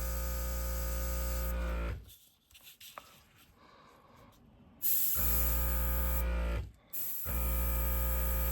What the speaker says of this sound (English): But I'm loving this compressor.